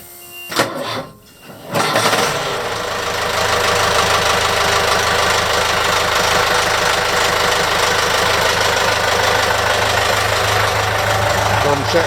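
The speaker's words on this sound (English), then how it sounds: "We're going to start the Perkins Sabre engine" Perkins Sabre diesel engine aboard a Pedro Skiron boat cranks briefly from cold, catches, then settles into a loud steady knocking idle that runs on evenly.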